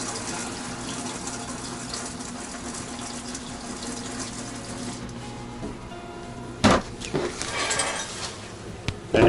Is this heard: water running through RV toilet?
yes